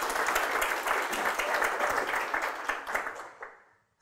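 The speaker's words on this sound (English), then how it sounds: "So give them a big round of applause." A meetup audience claps together in a dense, steady burst of applause that fades out over the final half second.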